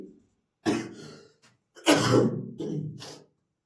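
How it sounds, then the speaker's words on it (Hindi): Several harsh coughs come in quick bursts, close and fairly loud, separated by brief pauses. "खांसी हो गया है ना"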